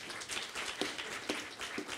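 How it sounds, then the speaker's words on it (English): An audience at an Indigenous knowledge and bio-trade indaba applauds its panelists, a steady patter of many hands clapping at moderate volume from across the room. "I'm going to ask that we just give one more round of applause to our panelists."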